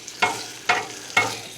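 Garlic butter and food sizzle on a hot Blackstone flat top griddle, with three or four sharp scraping or stirring bursts at a steady rhythm over a constant close frying hiss.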